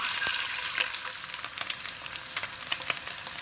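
Chili-coated eggs fry in hot oil, giving a continuous near sizzle with scattered small spits and crackles.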